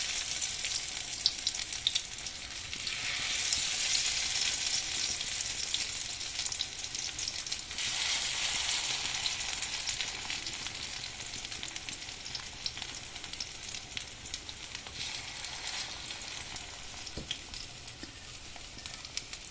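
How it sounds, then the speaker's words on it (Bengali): Masoor dal (red lentil) fritters fry in hot oil with a steady, crackling sizzle that rises and falls as pieces are added, close by and without talk. "এবার বড়াগুলোকে দিয়ে দেবো একে একে।"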